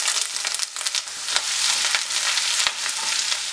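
Ginger added to hot oil with popped mustard seeds sizzles loudly up close, a dense steady hiss with small crackles and a few stirring scrapes for nickel-pickle tempering.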